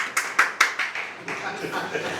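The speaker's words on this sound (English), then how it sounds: "Hey, a better round of applause for Daktari." A handful of sharp claps in an uneven rhythm, then a looser smattering of applause that fades, fairly close, at a book launch.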